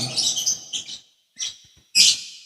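A pet bird chirps and whistles in a few high, sharp bursts close by, with brief pauses between calls, heard during a casual hangout.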